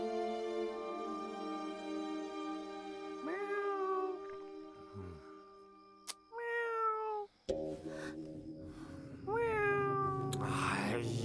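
A cat meows several times at night, each cry a drawn-out rising and falling wail, set over a constant low background hum with brief knocks in between.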